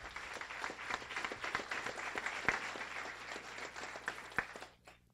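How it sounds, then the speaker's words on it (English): An audience at a guide dog graduation claps for sponsors in a sustained round of applause, a dense patter of many hands with a few sharper claps standing out, fading at the end. "Please, a round of applause for Betsy and Fred"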